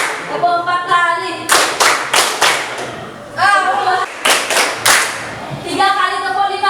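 A group claps hands in counted rhythmic sets during a class exercise: short bursts of sharp, fairly loud claps separated by pauses, with a voice speaking between the bursts.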